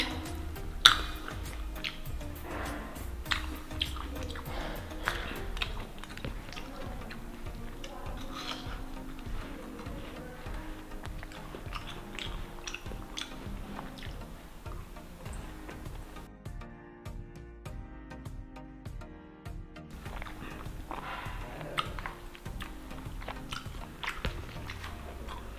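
Someone bites into and chews grapes close to the mic, with repeated moist, crunchy bites and steady chewing over a busy background.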